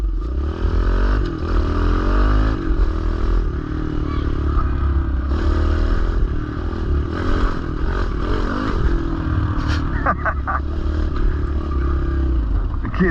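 Pit bike engine warming up, idling close and loud with a rough, clattering putter and small revs rising and falling throughout.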